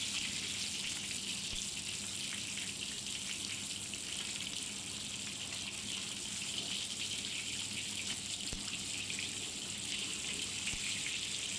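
Tilapia fries in a pan with a constant soft sizzle and crackle, a fairly quiet, even hiss that runs uninterrupted with no talking.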